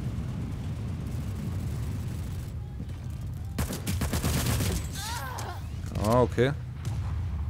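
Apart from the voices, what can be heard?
gunfire in the video game PlanetSide 2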